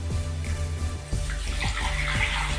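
Hot water poured into a container of strained, blended juice base, a steady gushing splash that strengthens partway through and continues to the end, close and alone.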